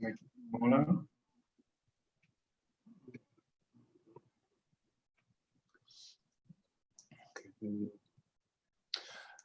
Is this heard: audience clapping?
no